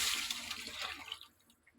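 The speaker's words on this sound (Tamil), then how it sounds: "இப்போ குழம்பு கரைச்சி வச்சுருக்கோம்ல, அதை ஊற்றிக்கிடுவோம்." A brief burst of fish curry broth pouring and splashing into a cooking pot, loud at first and then tapering off into a few faint drips.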